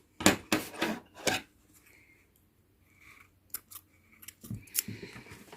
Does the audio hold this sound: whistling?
no